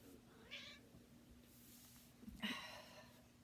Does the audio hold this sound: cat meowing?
yes